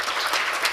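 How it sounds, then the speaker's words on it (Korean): Audience applause welcoming a guest at a KDI panel discussion: a brief, dense burst of clapping from a room full of people, loud and steady with no voices over it. "박수로 일단 환영해 주시고"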